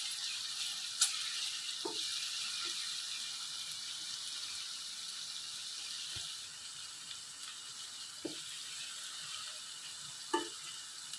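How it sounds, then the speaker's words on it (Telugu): Curry leaves frying in hot oil over ginger-garlic paste for a fish gravy, a soft continuous hiss with a few faint clinks of a spoon against the pan. "దీంట్లో కరివేపాకు వేసుకుందాం."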